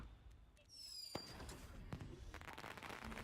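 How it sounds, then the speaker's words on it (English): Fireworks in the video game Cyberpunk 2077 burst in a few sharp pops and crackles over a steady ambient bed, with a high whistling streak early on and denser crackling toward the end. "There is fireworks, but as you can see, they kind of just do their own thing."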